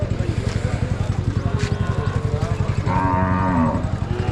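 Cattle moo loudly and close at the Vaniyambadi cattle market, with a long bellow that swells toward the end over a continuous pulsing engine rumble and market noise.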